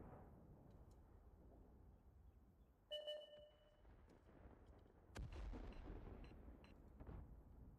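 An Object 261 self-propelled artillery gun fires in World of Tanks: a brief electronic beep comes first, then one heavy boom followed by a lingering rumble, all fairly quiet.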